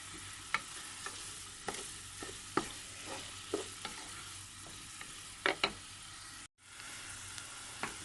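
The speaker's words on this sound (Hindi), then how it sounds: "उसमें मैंने साबुत गरम मसाला डाल दिया है" Whole garam masala, including a cinnamon stick, cloves, black peppercorns, black cardamom and cumin, fries with onions in a pan in a quiet, steady sizzle, broken by sharp scrapes and taps of stirring and a brief dropout.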